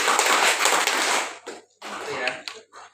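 Trainees at a Banser camp in Telawang, Central Kalimantan, break into the rhythmic Banser clapping chant, a loud sustained rush of massed claps followed by a brief gap and a second, choppier burst mixed with voices.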